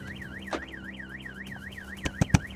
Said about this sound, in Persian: اول دزدگیر ماشینش به صدا در میاد